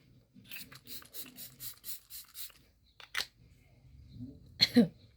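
Rapid series of about eight short bursts of MAC Fix+ Magic Radiance setting spray in a quick rhythm, followed by a single longer spritz and some faint rustling.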